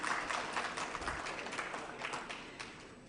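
An audience applauding panelists at a financing and agriculture panel discussion, a steady wash of many hands clapping at moderate distance, fairly faint and tapering slightly toward the end.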